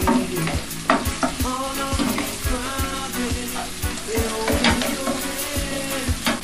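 Saltfish being fried and stirred in a pan for a Jamaican saltfish and butter beans dish, giving a steady loud sizzle with repeated scraping and knocking strokes throughout, close up and with no talking.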